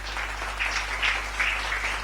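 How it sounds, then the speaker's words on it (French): Church congregation applauding during a French-language evangelistic sermon: a steady crowd clapping wash, moderately loud and sustained throughout without gaps, with faint cheering swells and no distinct speech. "acclame pour Jésus"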